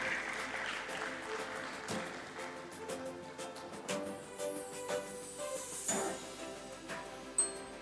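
A seated audience at a BSE IPO listing ceremony applauds as a merchant banker is welcomed on stage, with steady, moderately distant clapping that continues throughout.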